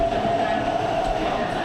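An MTR train in Hong Kong rumbles along in a steady, close, continuous roar with a faint sustained whine running through it, with no voices.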